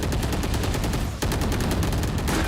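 Rapid, dense gunfire from a Valorant professional grand-final match fills the whole stretch with bursts of shots and a brief break midway, loud and with no talk over it.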